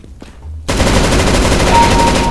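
Automatic rifle fire from a Counter-Strike: Global Offensive match bursts in loudly after a brief quiet moment, then continues as a dense, sustained stream of rapid shots.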